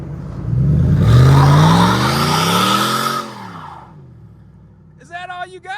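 Hemi V8 swapped into a low-budget truck revs hard with a rising engine note and spins a tire, the roar swelling then dropping away, followed by brief voices talking.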